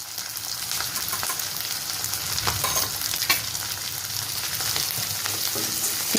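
Ginger and turmeric fry with onion and green chillies in a pan for an ash gourd curry, giving a steady, close sizzle throughout with a few soft stirring scrapes and no talking.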